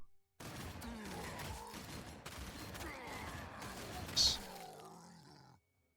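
Units firing in the Warhammer 40000 Sanctus Reach video game produce rumbling bursts of gunfire and explosions mixed with grunts and roars, loud and dense, before cutting off abruptly.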